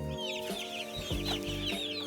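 Young chickens, including Polish chicks, clucking and peeping close by during afternoon chores, several overlapping chirps and soft clucks with a low background hum.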